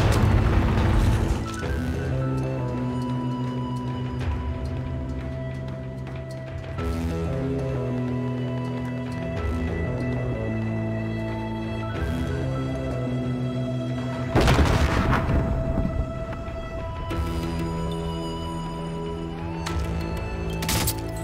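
Cluster bombs going off in a video game, heavy booming blasts at intervals with a couple of louder bursts, over constant electronic game music, with no talking.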